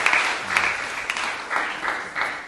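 Audience applause at a first solo vocal recital, a soft, steady patter of clapping from a crowd with a few louder swells, heard alone without speech.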